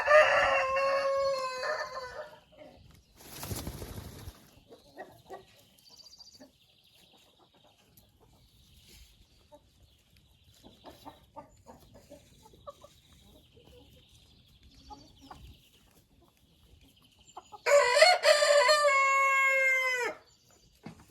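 A Black Copper Marans rooster crows loudly at the start and again near the end, its cries separated by quieter scattered clucks and a short rustle or shake, with no speech.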